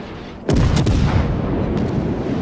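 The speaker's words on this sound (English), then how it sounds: "You don't mind if we fire some rounds at you, right?" Warship guns fire in a World of Warships naval battle: one loud, sudden booming salvo, then a long rumbling decay. No voices are heard.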